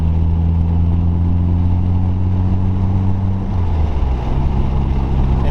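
A Mitsubishi Evo 3 engine drones loud and steady from inside the car while driving, its pitch dropping partway through as a gear change is made.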